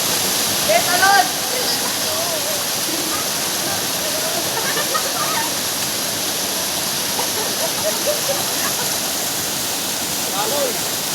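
Tamulaya waterfall on Polillo Island gives a steady, loud broadband rush of falling water throughout, with distant voices and shouts of people at the falls mixed faintly into the roar.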